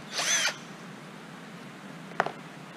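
A power drill bores a hole in the vertical stabilizer of an RV-14A aircraft kit, a loud half-second whine that stops abruptly, followed by quiet and a faint click.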